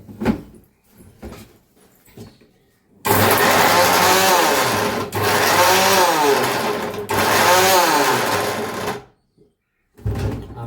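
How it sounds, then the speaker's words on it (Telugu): A mixer grinder whirs loudly in three bursts of a few seconds each as it grinds ingredients including a small piece of ginger, separated by short pauses, with brief clattering before and after. "ఇవన్నీ మిక్సీ పట్టేయాలి"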